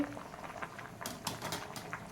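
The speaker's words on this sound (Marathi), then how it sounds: "हे बघा डाळ आपली डाळ आपली फुटते म्हणजे ती शिजत चाललेली आहे" Dal simmers in a pot for puran poli filling, with faint soft bubbling and small popping ticks, quiet and close.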